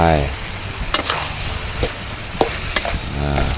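Pork stir-fried with shredded kaffir lime leaves in a pan for a southern Thai dish, a soft sizzle under scattered spatula scrapes and clicks against the metal, close and moderately quiet.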